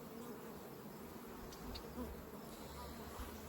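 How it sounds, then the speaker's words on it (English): Honey bees buzz steadily around a sugar water feeder outdoors, a continuous close insect drone with slight swells, heard alone. "You see the little bee?"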